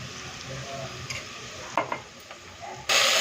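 Ginger garlic paste hits frying onions in a pot for prawn biryani, giving a steady soft sizzle with a few spoon scrapes and clinks, then a sudden louder burst of hissing at the end.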